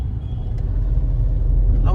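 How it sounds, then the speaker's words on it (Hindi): A tuned Mahindra XUV500 drives fast, its engine and road rumble a loud, steady low drone close up with no break in the noise. "गाड़ी उड़ती चली जा रही है, क्योंकि पावर हो रखी है गाड़ी के अंदर"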